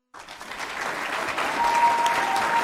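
A school board meeting audience applauds award recipients. The clapping swells quickly from silence into a steady, moderately loud round that holds to the end.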